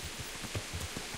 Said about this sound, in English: It's really raining cats and dogs at the moment. The rain is so thick I can barely see